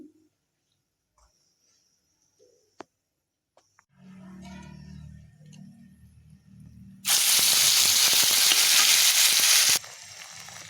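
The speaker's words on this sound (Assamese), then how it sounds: "পেষ্টখিনি বনাই লোৱা হৈ গ'ল এতিয়া এইখিনি তেলত দিম" After a few quiet clinks and a soft rattle, a loud burst of sizzling erupts as spice paste hits hot oil, then settles to a quieter fry.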